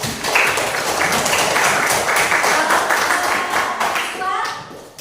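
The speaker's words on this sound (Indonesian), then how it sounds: "aplaus dulu untuk kelompok ini" A classroom group claps together in a steady burst of applause lasting several seconds, with a few voices mixed in before the clapping tapers off.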